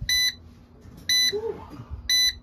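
Electronic beeps from an Allan coin timer for a pisonet rental computer, three short bright beeps about a second apart at a steady rhythm, fairly close over a faint low background hum.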